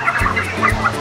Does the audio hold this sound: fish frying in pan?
no